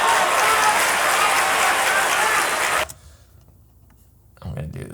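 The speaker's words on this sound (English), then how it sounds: "So I'm just gonna add a couple more crowd sounds." Added crowd applause rolls as a loud, dense wash of clapping for almost three seconds, then cuts off abruptly into near silence before a brief low rumble returns.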